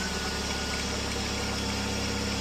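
An old Chevy S10 truck engine idles steadily, a loud, close, continuous rumble with an even mechanical throb and no talk over it.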